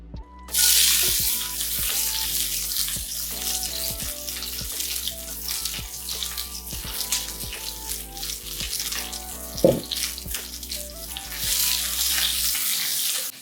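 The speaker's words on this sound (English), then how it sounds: "I have a steel pan heated on medium-low heat. I'm gonna add some avocado oil. And we're gonna throw in our vegetables." Mixed vegetables sizzle steadily in avocado oil in a steel pan over medium-low heat, a loud, continuous frying crackle that starts abruptly and runs throughout, with a brief clatter of stirring partway through.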